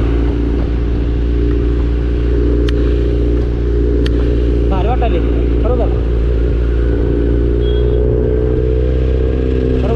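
A Kawasaki Z900 motorcycle engine drones loudly and steadily up close while riding, with a couple of sharp clicks and someone talking over the engine noise.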